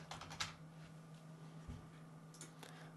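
Someone types on a computer keyboard, a faint, close patter of soft key clicks in short irregular bursts over a quiet room.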